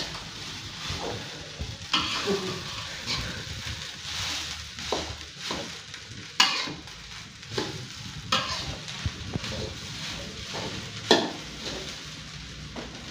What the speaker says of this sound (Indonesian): Jadi bisa bolak-balikin nasi yang banyak.